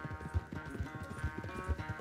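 Galloping horse hooves in the Red Dead Redemption 2 video game, a quick rhythmic run of heavy thuds repeating roughly twice per second, close and steady, with no speech.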